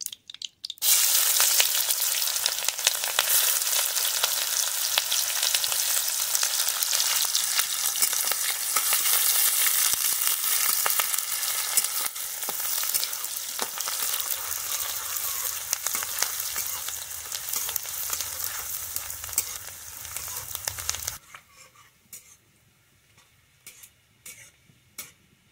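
Onions hit hot mustard oil in a village kitchen and fry with a loud, dense, crackling sizzle that holds steady for about twenty seconds, then cuts off sharply, leaving faint ticks and clatter.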